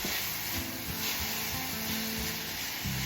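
Onions and peppers sizzle steadily in a hot pan, a bright continuous frying hiss with occasional soft stirring scrapes and knocks, close and alone without any talk.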